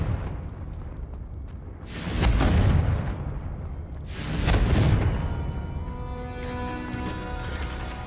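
Confringo fire spell blasts in the video game Hogwarts Legacy: two loud booming explosions a couple of seconds apart, each fading into a rumbling tail, then a lighter crackling hiss with no talk.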